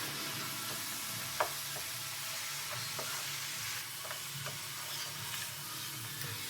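Leftover cooked rice with pork rib heats in a hot pan for pork fried rice, giving a quiet, steady sizzle with a few faint scraping clicks of stirring, close by and without talk.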